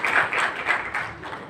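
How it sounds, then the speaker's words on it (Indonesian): An audience at an inspirational talk show applauds a second speaker, with a steady patter of clapping that swells and fades in several waves over a moment and has no talk over it. "Tepuk tangan untuk pembicara kedua kita, Ananda Kisha dari Serta Bundanya"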